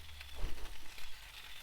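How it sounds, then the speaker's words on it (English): Soft, steady sizzling of sausages frying gently on low heat in a pan, low and continuous with faint crackles throughout. "we're frying them up and not for a curry. Slow on low."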